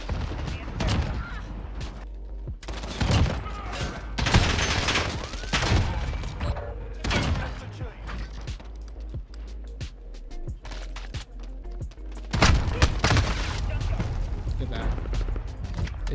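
M4 rifle fire in Call of Duty: Modern Warfare, with bursts of automatic shots and heavy impacts coming in waves through the clip, loud and close, along with a voice talking at times.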